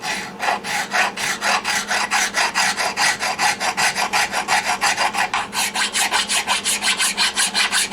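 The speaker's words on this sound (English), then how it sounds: "But I'm going to sand for a little while first. Maybe use a file." A pillar file rasps back and forth over a carbon fiber guitar being repaired near the natural wood, in steady, rhythmic strokes. The strokes are loud and close, with no speech.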